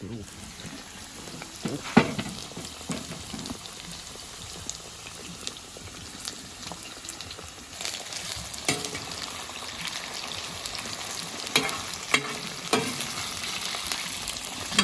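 Meat sizzles and crackles steadily in a hot cauldron over a grill, with occasional stirring clatters and pops, close and continuous, no voices.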